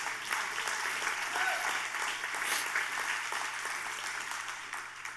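A church congregation applauds God after a sermon prompt, a steady wash of many hands clapping at moderate distance, sustained throughout without a clear voice on top.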